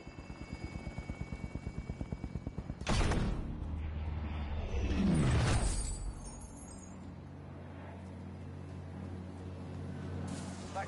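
A helicopter in the Call of Duty video game swells to a loud, rushing rotor roar, then pulls away and fades into a steady distant hum, with a rapid mechanical chatter beforehand.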